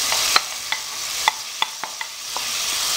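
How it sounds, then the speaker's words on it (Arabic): Garlic sauce sizzling in a frying pan with eggplant, a steady bright hiss punctuated by several sharp clinks and scrapes of a utensil stirring against the pan. "نخليها تقلى شوية"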